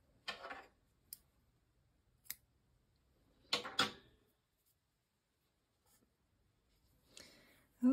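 Scissors snip off tied yarn ends on a small crocheted mushroom, giving a few quiet, short cutting and rustling sounds separated by near silence, with no talking.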